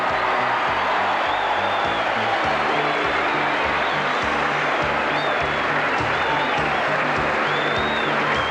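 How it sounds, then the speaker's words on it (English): A large crowd roars steadily at Moonee Valley harness racing track during the 1985 Inter Dominion final as a horse is introduced, a dense continuous wall of cheering with no pauses. "That's the roar for Preux Chevalier as it's introduced to the crowd"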